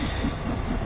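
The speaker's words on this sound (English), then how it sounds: "Liam, the Seven Valleys steam train renamed Queen's Jubilee for Seven Valley Railways." Seven Valleys steam locomotive, renamed Queen's Jubilee, in the Train Sim World 2 video game gives a brief, steady rolling rumble with no talking.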